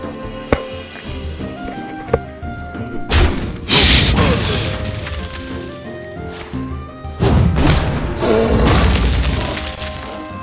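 Hearthstone card-game attack and ability effects: a string of crashing, shattering thumps and booms bursts out in several loud clusters over a steady musical backdrop, with quieter plinks in between.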